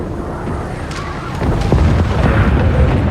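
A capital ship blowing up in a Homeworld 3 space battle: a loud, sustained rumbling explosion that swells partway through and stays heavy and booming to the end.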